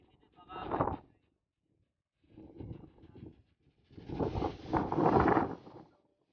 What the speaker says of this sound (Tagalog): Masyadong malakas yung hangin talaga.